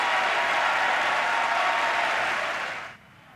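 A large audience applauds the president's State of the Union address with dense, sustained clapping that fades out over the final moments.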